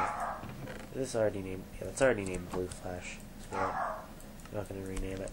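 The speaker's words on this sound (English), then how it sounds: "Sorry about the barking in the background." A dog barks and yips in short bursts somewhere behind a person talking close by, the barking recurring several times and partly masked by the voice.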